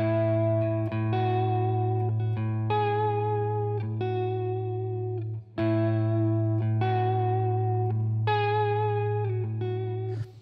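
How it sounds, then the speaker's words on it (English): An electric guitar rings out a major seventh chord with a floaty, effects-laden live tone: sustained chords change every second or so over a steady bass note, loud and continuous with no talking. "So that floaty sound that we're hearing,"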